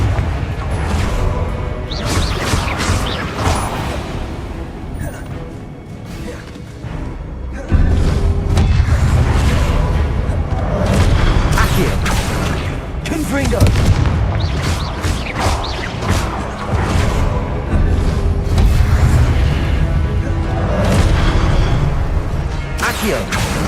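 Fiery Confringo blasting-curse explosions in Hogwarts Legacy combat: a loud, dense, continuous barrage of booms, crashes and whooshes that keeps going without a break, with a voice present in the mix.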